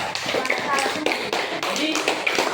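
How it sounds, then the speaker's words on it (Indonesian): Children in a school gymnastics class clap for a classmates' group, irregular uneven claps and taps with shuffling and faint voices mixed in, fairly close and moderately loud. "Oke, kita kasih tepuk tangan untuk kelompok 2."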